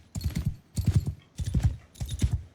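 Horse hooves clip-clopping in Mount & Blade II: Bannerlord, four evenly spaced clusters of hoofbeats at a steady trotting rhythm, close and clear with no talking.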